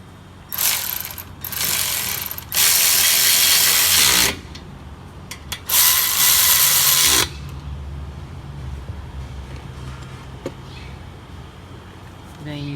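Bolts on the front brake caliper of an Acura TSX being tightened with a ratcheting tool, heard as several loud bursts of rapid clicking between pauses, with softer handling noise afterward.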